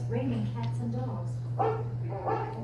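Rover the dog barks a few times among a steady mechanical hum, with a person talking over the sound.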